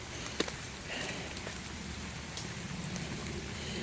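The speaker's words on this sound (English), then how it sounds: "I do like the rain though" Steady rain falls in a quiet outdoor setting along a long-distance hiking trail near a shelter, an even soft hiss with occasional louder drops and no talking.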